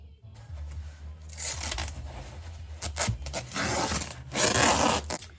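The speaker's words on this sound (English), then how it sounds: "Then we flip it and do some more on it. More masking tape." Masking tape being pulled and torn while a package of bubble-wrapped model horses is bundled for shipping, with bursts of ripping and crinkling scrapes close by and no voice.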